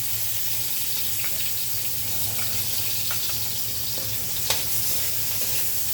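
Chopped onion and garlic sizzle steadily in a hot frying pan, a constant hissing crackle with a few faint clinks, close and fairly quiet with no voices.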